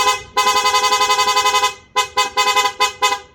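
A loud, bright electronic PIA aftermarket horn on a SENLO M1 Plus motorcycle blares in one long sustained blast, then a quick series of five or six short sharp honks, close by.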